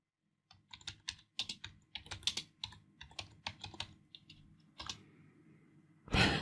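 Keystrokes tapping out a sudo command on a computer keyboard in a Linux terminal, a quick irregular run of close, crisp clicks with short pauses between bursts, ending in a louder clatter.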